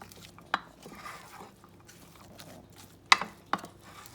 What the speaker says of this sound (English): And then mix everything nicely together.